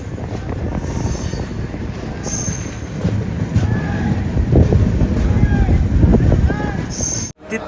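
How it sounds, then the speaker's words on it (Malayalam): Samata Express rolling into Titlagarh Junction railway station in Odisha, a steady close rumble of wagons with thin wheel squeals rising over it, building slightly louder before cutting off abruptly near the end. "തിത്ലാഗഡ് ജംഗ്ഷൻ റെയിൽവേ സ്റ്റേഷനിലേക്ക് ഇതാ നമ്മുടെ ട്രെയിൻ എത്തിക്കൊണ്ടിരിക്കുകയാണ്"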